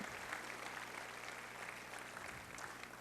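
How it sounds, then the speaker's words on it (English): An audience at a leadership conference gives a round of applause for Asbury University, a soft, distant wash of many hands clapping that stays steady and fairly quiet throughout. "let's go ahead and give Asbury a great round of applause for that"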